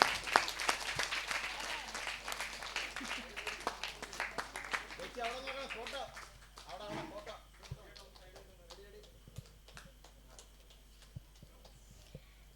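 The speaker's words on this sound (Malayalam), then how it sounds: "നല്ലൊരു കയ്യടി കൊടുക്കും" Audience applause for a yoga dance performance by a stage troupe: dense, loud clapping fills the first six seconds, then thins into scattered claps that fade, with a voice speaking over it.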